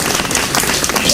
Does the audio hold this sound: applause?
yes